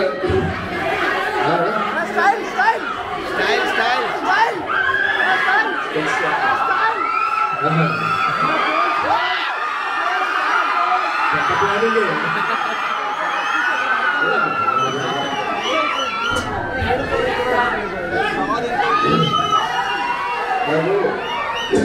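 A large crowd at a college song launch event roars and shouts continuously, with whoops and cheers rising over a dense wall of chatter throughout.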